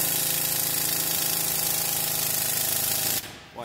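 A 3/8-inch flat impact wrench works on a Duramax LMM truck during Allison transmission removal, giving a loud, continuous, rapid rattling buzz close by that cuts off abruptly near the end; no talking.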